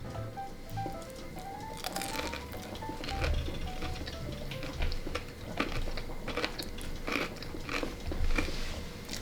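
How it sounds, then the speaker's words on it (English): Crispy Trader Joe's falafel chicken schnitzel is bitten and chewed up close, giving repeated sharp crunches and crackles in an irregular rhythm over several seconds. "It's very crispy. It sounds crispy, right?"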